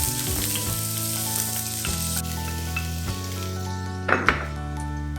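Onions go into hot oil for a Filipino chicken empanada filling, frying with a loud, steady sizzle close up, with a couple of brief stirring clinks near the end.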